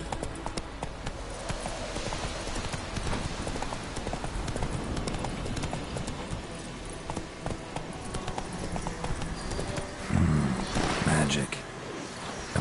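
Horse hooves gallop at a steady clip-clop rhythm in The Witcher video game, loud and close throughout, with game voices and background sounds mixed in.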